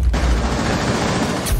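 Rapid automatic gunfire from a Rainbow Six Siege match, a dense continuous burst of loud shots filling the whole moment with a brief pause before the end.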